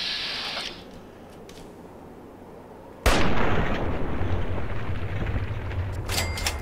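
Sniper gunfire in Fallout: Tale of Two Wastelands: a single sharp, loud crack partway through, followed by a sustained rumbling wash of noise and a few faint clicks near the end.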